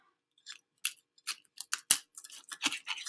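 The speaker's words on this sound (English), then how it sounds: "now I'm going to cut them again." A pizza being sliced into pieces with a cutter or shears, giving a run of crisp, uneven crunching cuts, close and fairly loud, with short gaps between strokes and no talk.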